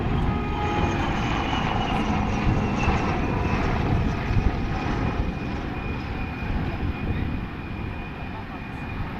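HAL Light Combat Helicopter flying a display at the Aero India air show in Bengaluru, a loud, steady turbine and rotor roar that holds near and constant throughout, with faint crowd sounds underneath.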